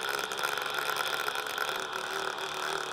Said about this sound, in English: That's the sound of my computer tearing itself apart on the inside.